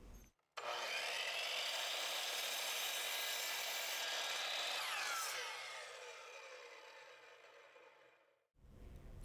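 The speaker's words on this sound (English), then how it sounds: "I could cut them all to length with the chop saw" Chop saw slicing wood pieces to length: a sudden loud start, a bright screaming cut for several seconds, then the blade winding down and fading before a fresh noise at the end.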